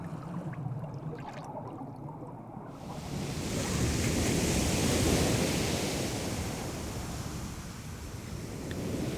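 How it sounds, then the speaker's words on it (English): Ocean waves breaking on a beach where olive ridley turtles come ashore to nest, a broad rushing surf that swells into a loud, sustained roar partway through and then eases slightly, with no voices. "The low-frequency vibrations of the waves hitting on the beach can be heard by her beneath the water."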